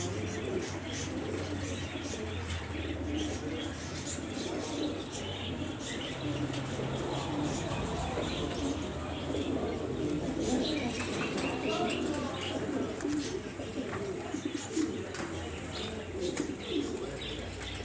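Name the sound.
pigeons cooing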